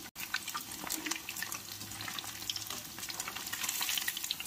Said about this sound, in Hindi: पनीर हमारी फ्राई हो गई है, पनीर देखिए गोल्डन ब्राउन हो गई है